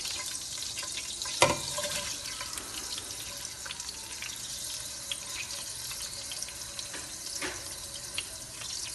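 Onion goes into hot oil in a pan on a stove as rice is being tempered, a continuous bright sizzle with a sharp crackling burst early on and scattered pops after it, heard alone.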